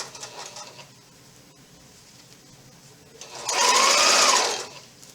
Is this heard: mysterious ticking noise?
no